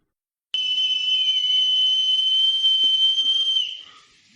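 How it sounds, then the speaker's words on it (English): A group of people hold a single piercing, high whistle-like tone that starts abruptly, stays loud and steady for about three seconds, then fades away, with no talking. "And this piercing sound continues for another 4 minutes."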